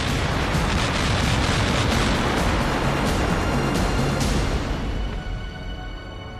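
Continuous roar of British naval artillery bombardment, loud and dense throughout with repeated heavy booms blending together, easing slightly near the end.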